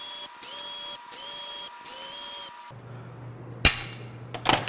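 Three short whirring bursts from a power tool remove bolts from a Jaguar Land Rover 5.0L supercharged AJ V8 engine, each rising in pitch. Quieter metallic clinks and a sharp knock follow against a low background hum.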